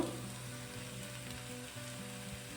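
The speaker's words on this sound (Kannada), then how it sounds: "ಉರಿನ ಲೋ ಫ್ಲೇಮಲ್ಲಿ ಇಟ್ಕೊಂಡು ಚೆನ್ನಾಗಿ ಫ್ರೈ ಮಾಡ್ಕೊಳ್ತಾ ಇದ್ದೀನಿ" Spices fry in a pan over a low flame with a steady, soft hiss and fine crackle, alongside a faint low hum, for a short moment with no talk.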